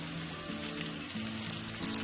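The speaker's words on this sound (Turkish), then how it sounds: "Erimiş yağımızın içine piyazlık doğradığımız soğanlarımızı atıyoruz" Chopped onions dropped into melted fat for Uzbek pilaf, frying with a steady crackling sizzle that stays fairly quiet and even throughout.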